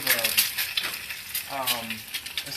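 A fried egg cooks in a hot pan, giving a close, crackling sizzle that carries on throughout, with light metal spatula scrapes and a voice speaking briefly over it.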